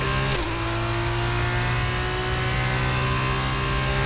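Race car engine in F1 22 at Bahrain in an F2 car, a loud continuous high-pitched whine holding steady while accelerating, heard close up and alone.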